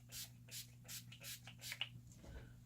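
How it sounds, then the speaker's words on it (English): Urban Decay All Nighter setting spray misted from a pump bottle in about five soft, evenly spaced bursts, quiet and close, with a low electrical hum underneath. "I'm going to spray myself with some Urban Decay All Nighter setting spray"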